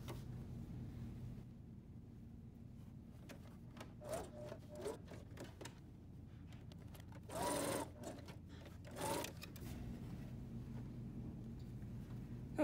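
A sewing machine top-stitches a pocket on a coverall, giving a steady, continuous motor hum with a rapid needle rhythm and a couple of brief louder surges, heard alone at close range.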